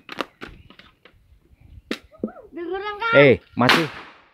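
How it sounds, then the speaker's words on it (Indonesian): Several sharp, loud firecracker pops and cracks go off in quick succession in a village near Merapi, followed by excited children's shouts and voices nearby. "ini anak-anak dari dusun Babatan 1 bermain petasan."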